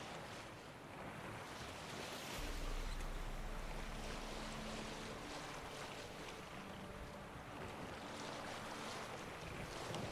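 A boat sailing across open water in The Witcher 3: Wild Hunt gives a steady, soft rush of waves and wind that continues without a break, with no voices.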